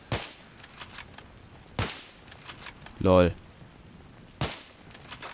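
Sharp, sparse gunshots from the Battlefield 3 campaign, a few single cracks spaced seconds apart with a faint background, plus a brief spoken interjection.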